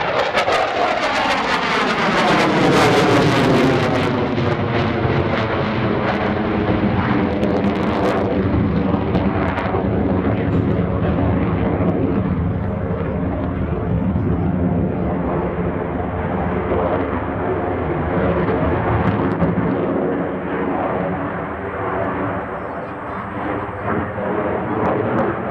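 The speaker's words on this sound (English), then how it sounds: "The Hornet is famous for its ability to fly slower than any other comparable fighter." An F/A-18C Hornet fighter jet at an airshow roars past as a loud, sustained engine rumble, its pitch sweeping downward as it passes, steady and powerful for the whole stretch with no one talking.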